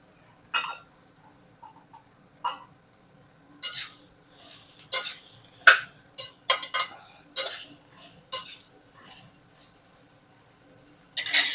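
Ridge gourd pieces and onions being stirred in a pan with a metal spoon, a string of scraping clinks and taps in irregular bursts, near and fairly crisp, with quiet gaps between strokes and no speech.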